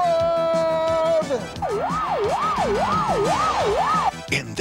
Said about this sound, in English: And there goes a police car.